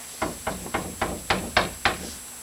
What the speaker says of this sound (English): the old man heard a knock at his door